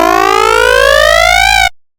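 A loud, bright, screamy synthesizer oscillator tone with many harmonics holds steady, then glides upward in pitch before cutting off abruptly.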